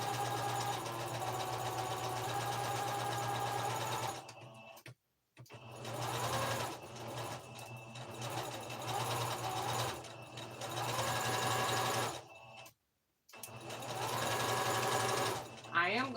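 Domestic sewing machine stitching cardigan panels at a long stitch length, a steady close whirring hum in long runs broken by short pauses, with the motor restarting after each stop.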